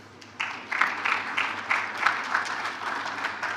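Newly inducted fellows at a professional institution's ceremony clapping for themselves, a short burst of steady crowd applause from a hall that starts abruptly and holds at moderate loudness for about three seconds.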